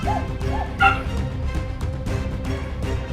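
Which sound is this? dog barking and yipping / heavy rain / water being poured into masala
dog barking and yipping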